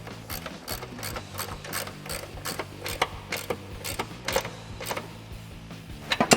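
Ratchet with a 13 mm socket tightening exhaust bracket bolts on a 2005-2009 Mustang GT, a close, steady run of quick metallic clicks broken into short bursts as the handle swings back and forth, with no talk.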